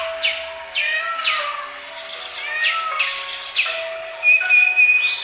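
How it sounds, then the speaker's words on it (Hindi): Several birds, including a peacock, call nearby with repeated sweeping chirps and calls, alone against a quiet background with a faint steady tone underneath. "मोर दिख रहा है, मोर की आवाज़ सुन सकते हैं।"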